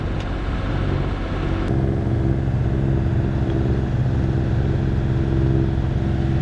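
A boat's engine drones steadily and close while cruising toward Avalon on Catalina Island, a constant low rumble with a brief click near the start and no talk.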